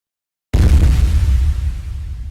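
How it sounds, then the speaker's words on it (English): A sudden loud boom after a half-second of silence, followed by a heavy, rumbling low roar that slowly fades. "it's like a giant explosion"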